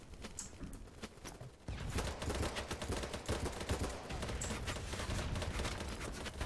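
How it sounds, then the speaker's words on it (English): Heavy gunfire in the video game BattleBit during a large 127 versus 127 battle, a dense, continuous crackle of rapid shots that gets louder partway through. "So much gunfire."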